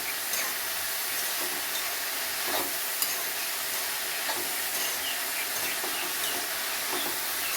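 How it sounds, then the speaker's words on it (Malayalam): Leafy greens of pumpkin and cowpea leaves, mixed with turmeric powder and salt, hiss and sizzle steadily in a hot pan, with soft scraping stir strokes recurring every second or so. "അത് ഇട്ട് കൊടുത്തതിന് ശേഷം നല്ലവണ്ണം ഇളക്കി യോജിപ്പിക്കണം."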